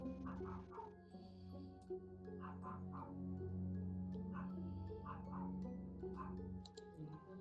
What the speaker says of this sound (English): There's also barking in the background, as you hear.